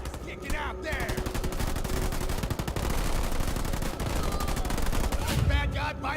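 Dense, continuous rapid gunfire from Marines in the video game Halo Wars 2, overlapping bursts of automatic shots and rattling volleys, loud and sustained for the whole stretch with no talk.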